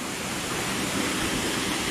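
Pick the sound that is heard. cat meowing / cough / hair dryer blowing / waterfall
waterfall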